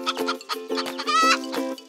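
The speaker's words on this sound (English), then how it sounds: "Chickens love to cackle." A chicken clucks in a quick series of short, nasal calls, about six close, clear bursts in a little under two seconds, one slightly drawn out, alone with no talk.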